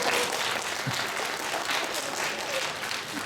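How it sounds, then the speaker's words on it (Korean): A congregation at a Korean Sunday church service applauds, and the dense clapping stays steady and fairly loud throughout. "박수 한번 쳐주세요."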